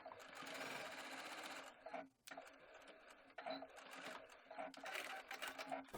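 A sewing machine runs a straight stitch to close the casing of a ruffled skirt. It makes a quick, even, rattling whir with a brief pause partway through, heard faint but close.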